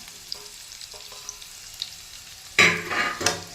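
Onion, curry leaves and garlic hit hot oil in a pan for green chili chutney, starting with quiet clinks and then bursting into a loud, sudden crackling sizzle that holds to the end, with no voices.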